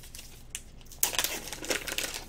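Plastic packaging of a Razer Ripsaw capture card crinkles and crackles close up, a few soft rustles followed by a louder, sustained burst of crisp crumpling, with no talk.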